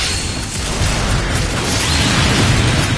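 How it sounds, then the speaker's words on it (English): Cannon blasts in Star Ocean 5, a loud dense barrage of booming bursts and whooshing debris sustained across the whole stretch, with no speech. "It's a cannon."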